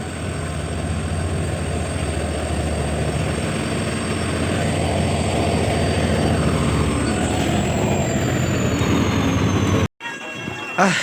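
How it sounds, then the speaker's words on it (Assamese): A loud, steady train rumble fills the clip, with a long high squeal of wheels drifting overhead before a sudden cut near the end. "মই এতিয়া ট্ৰেইনত উঠি গ'লোঁ"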